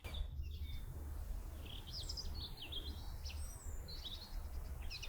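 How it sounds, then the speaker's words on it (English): Several birds sing and chirp in a damp, foggy garden in January, bright scattered phrases at moderate distance over a low, steady background rumble, with no talk. "I can hear a lot of bird song today"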